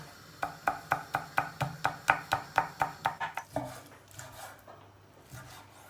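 A knife chops carrots rapidly on a cutting board, about a dozen evenly spaced crisp thuds, followed by softer scraping and shuffling.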